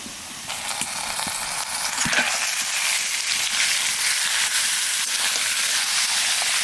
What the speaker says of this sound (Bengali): এই মাংসটাকে পেঁয়াজের সঙ্গে এখন মোটামুটি 10 মিনিট মতো কষাবো।